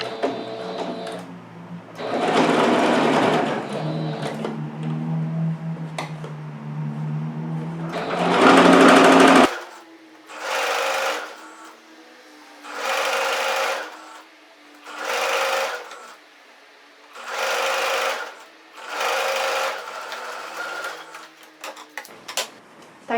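A sewing machine stitches a dish towel in bursts: a long run of rapid stitching, then six short evenly spaced runs separated by brief pauses, close and clear with no talk.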